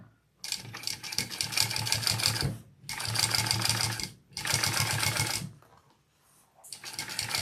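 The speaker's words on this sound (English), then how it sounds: "you start sewing from the back edge forward" A sewing machine stitches a seam on a bucket bag, running in three steady bursts of rapid mechanical chatter separated by short pauses, close and fairly loud.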